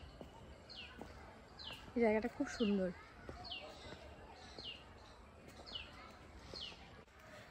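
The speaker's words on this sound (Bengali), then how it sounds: "আশেপাশে বিভিন্ন পাখির ডাক শুনতে পাচ্ছি।" Assorted birds call in woodland beside a temple, with faint repeated chirps recurring throughout at a distance, while a person speaks briefly over them.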